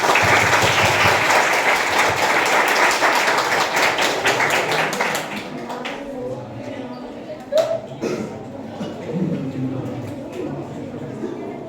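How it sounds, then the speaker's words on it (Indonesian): A school audience applauds after a class presentation on hydroponics, loud dense clapping for about five seconds that then fades, leaving room noise and a few scattered sounds. "Mari beri tepuk tangan."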